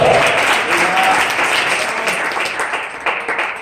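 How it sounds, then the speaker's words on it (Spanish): A church congregation claps loudly and continuously for a few seconds in a sustained, dense round of applause from many people filling the room. "Denle ese aplauso al Hijo de Dios, Señor."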